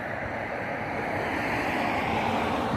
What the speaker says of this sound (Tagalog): Diyan naman yung dagat.